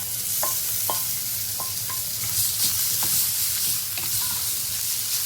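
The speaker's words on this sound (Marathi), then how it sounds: "भाजी छान आपल्याला परतून घ्यायची आहे।" Vegetables (pathri bhaji) stir-frying in a pan with sliced onion, a steady close sizzle broken by a few sharp spatula scrapes and clinks, with no voices.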